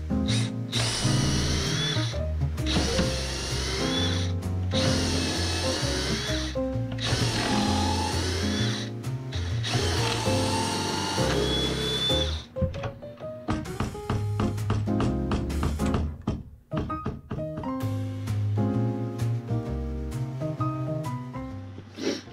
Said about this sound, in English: this line is where I have to drill a hole.